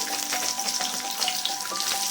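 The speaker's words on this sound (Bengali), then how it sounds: "এইভাবে ভেজে নিতে হবে খুব বেশি কড়া করেও নয় হালকা লাল করে ভেজে নেবো" Pieces of katla fish frying in oil in a pan, a close, steady crackling sizzle with dense spitting pops throughout and no speech.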